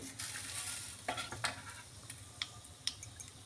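Mustard seeds crackle and sizzle in hot oil as a tempering is made for bhadang, a crunchy puffed-rice snack. The sound is soft and close, with sharp little pops and light stirring against the pan.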